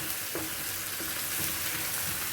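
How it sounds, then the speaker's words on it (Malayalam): Tomato and green chillies sizzle in oil as mushroom masala cooks, a steady frying hiss with a few soft stirring scrapes from a spatula, heard close up with no talking. "അപ്പോൾ നമുക്കിത് തക്കാളി ഇട്ട് കൊടുക്കാം. അതിൻ്റെ കൂടെ പച്ചമുളക്, അപ്പോൾ അതിൻ്റെ കൂടെ കിടന്ന് വേവട്ടെ."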